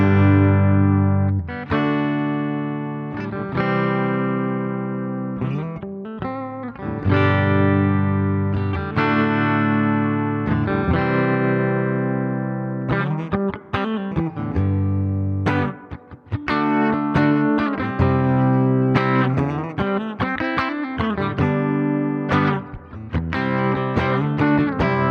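A Spark amp with its acoustic tone plays a guitar demo of strummed chords and picked notes, steady and close, ringing continuously with no talking.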